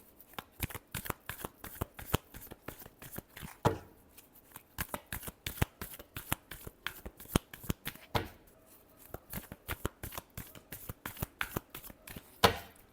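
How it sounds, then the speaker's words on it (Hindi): Tarot cards are shuffled close up in quick, crisp riffling bursts, a steady run of soft papery flicks and taps lasting the whole stretch with no talk. "Last shuffle."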